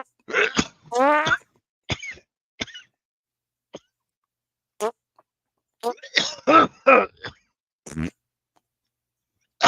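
Several harsh, close coughs burst out in irregular clusters separated by silence, with a few throat-clearing sounds and brief vocal noises between them.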